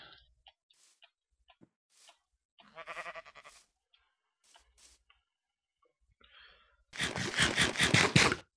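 Sheep bleating in the video game Minecraft, a burst of repeated loud bleats at the end following scattered quiet game sounds and a brief earlier bleat-like call.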